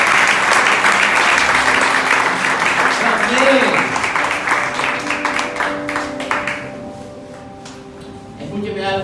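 A church congregation breaks into loud, sustained applause that gradually thins into scattered claps and fades, with a voice speaking over it and music tones entering near the end.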